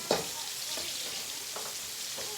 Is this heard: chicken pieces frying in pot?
yes